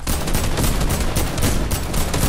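Rapid, dense gunfire from a shooter video game, loud and continuous bursts of shots filling the whole stretch with no talking over it.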